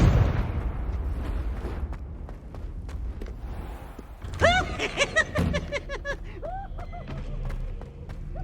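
A Confringo fire spell blasts in Hogwarts Legacy, a burst of crackling explosive impacts with sharp pops and bright magical chimes, loud and close amid game music and ambience.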